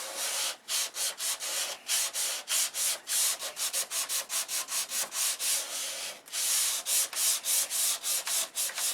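Sandpaper scrubs back and forth over primer on a control line P-51B model airplane, a close, steady series of rapid rasping strokes with brief pauses, no talking.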